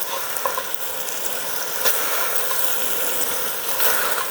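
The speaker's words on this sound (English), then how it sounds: "Start cooking the onions in there. Get those bad boys flowing around there. Get them in the mix, sauteing" Meat and onions sizzle and fry steadily in a pan while being stirred and sautéed for plov, a continuous close hiss with a few brief scraping accents.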